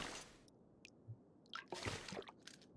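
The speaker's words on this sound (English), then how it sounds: "Is that me making that water sound walking around, or is that just because I'm in a bathroom?" Wet squishing and dripping footsteps while walking around a bathroom in The Long Dark, a few soft, irregular splashy steps, faint and close against near silence.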